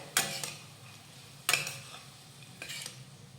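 Sprouted moth beans stir-fried in a pan with spices and coriander, heard as three sharp scraping strokes of a spatula against the pan, spaced about a second apart, close and alone with no talking.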